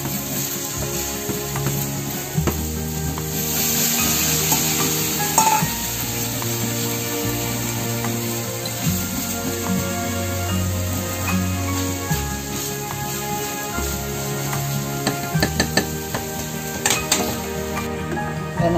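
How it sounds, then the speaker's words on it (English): Minced pork with lemongrass sizzling in a pan while a utensil repeatedly scrapes and stirs across the pan bottom, steady frying hiss with irregular metallic scrapes and knocks, close and moderately loud, no talking. "So you have to constantly remove the brown from the bottom of your pan."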